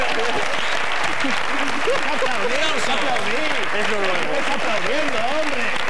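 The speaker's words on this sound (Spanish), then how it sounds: "¡No aplaudáis!" Sustained audience applause, a dense wash of clapping under a voice talking loudly over it, sounding like a crowded studio or comedy setting.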